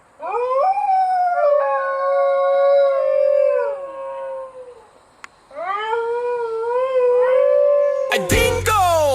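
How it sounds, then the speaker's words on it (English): A dingo, Australia's wild dog, howls in two long rising and falling wails, loud and close against a quiet background, with a clipped burst of other sound at the very end. "A dingo, Australia's wild dog."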